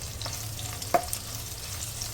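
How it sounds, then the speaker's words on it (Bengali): Green chilli, crushed garlic and chopped onion with dried red chilli frying in a pan for an aloo palak dish, a faint steady sizzle with one brief louder clink or stir partway through, no talk. "কাঁচা লঙ্কা কুচি, ক্র্যাশ রসুন, পেঁয়াজ কুচি, এগুলো আমি সব ভালো করে ভেজে নেব।"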